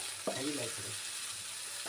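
Shrimp frying in a pan gives a soft, faint sizzle that carries steadily through a short moment, with a brief clink near the start.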